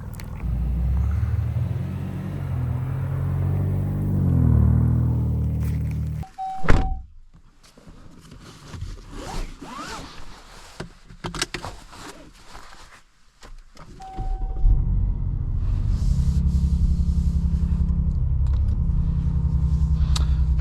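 A 2026 Dodge Charger Sixpack, a 550 hp AWD muscle car, on a cold start in the snow: a deep steady engine rumble, then a sharp door thunk and a quieter stretch before the low drone returns.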